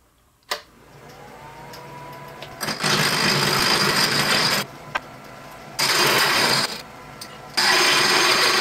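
A wood lathe turns a round spot about an inch in from the end of a small wooden piece, cutting it to 3/8 inch diameter for a garden lighthouse. A loud whirring, grinding cut comes in three bursts separated by quieter spinning, with no talk.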